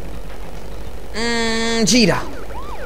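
A police car siren from the video game Crash Bandicoot Warped gives a short steady electronic wail that bends into a falling sweep, loud over a steady engine-like game hum, with a brief spoken word.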